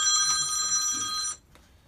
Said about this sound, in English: Didn't realize I didn't have the phone turned off.